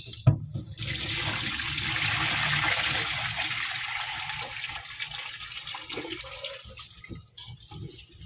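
Cassava being washed under running water, a steady, hissing stream of tap water splashing close by for several seconds and then trailing off into dribbles and small handling noises.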